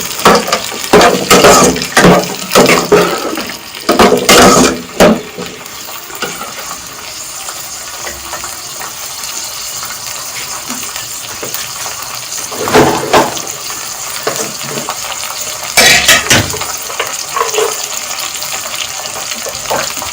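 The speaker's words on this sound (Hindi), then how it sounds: "मैंने फ्रीज किए हुए मटर, तो मैं ये इसमें ऐड कर रही हूँ। मैं इनको मिक्स करूँगी।" Frozen peas are mixed into matar pulao in a pot, heard as loud close bursts of scraping and rattling stirring in the first five seconds and again around thirteen and sixteen seconds, with a steady wet cooking hiss between them. No one talks.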